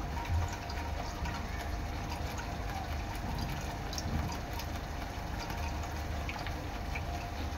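Water from ground crab claws pours steadily through a strainer into a pot while making crab curry, a continuous trickling and splashing that runs unbroken and fairly close.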